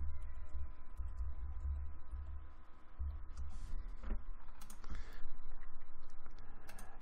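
Keys on a computer keyboard tap out a short word in software, a few light, scattered clicks over a quiet, humming room with no talking.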